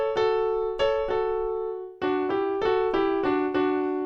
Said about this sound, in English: So usually when you harmonize stuff, you would just use thirds.